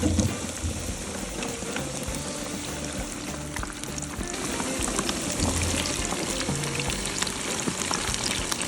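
Battered raccoon meat pieces drop into hot oil in a deep fryer basket, giving a dense, continuous crackling sizzle that grows slightly louder partway through.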